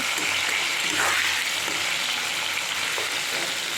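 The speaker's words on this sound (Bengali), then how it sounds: "আলুতে নরম হয়ে ভাজা ভাজা হয়ে গেছে আর একটু ভেজে নেব" Potatoes fry steadily in a pan, giving a close, even sizzle with a few soft stirring scrapes and no talk.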